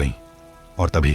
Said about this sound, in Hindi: बाहर बारिश और हवा की आवाज गूंज रही थी